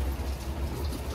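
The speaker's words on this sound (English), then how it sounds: "The rain has definitely picked up." Heavy rain falls during Hurricane Ian in Orlando, Florida, a dense, steady broadband hiss of downpour that fills the whole short stretch, loud and continuous with no voices.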